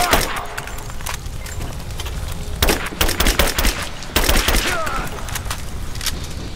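Gunfire from a shootout in the Rise of the Tomb Raider video game, with dense rapid bursts and volleys that swell in intensity, loud and continuous across the scene.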